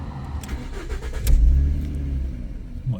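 A 2012 Ford Mustang engine cranks and fires up with a quick surge that settles into a steady, fairly quiet low idle, close by with no talking.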